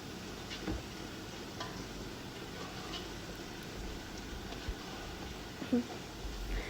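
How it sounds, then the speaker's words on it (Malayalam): Garam masala and pepper being stirred into a pan of tomato and onion: a soft, steady sizzle with faint scraping and a few light clicks, fairly quiet and continuous. "ആ തക്കാളി ഉള്ളി അതൊക്കെ കൂടി ഒന്ന് മിക്സ് ചെയ്തെടുക്കാം"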